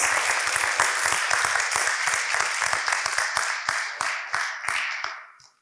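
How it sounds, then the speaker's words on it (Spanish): A crowd applauds with dense, steady clapping that carries on for several seconds, then thins out and fades to quiet at the end. "Aplausos."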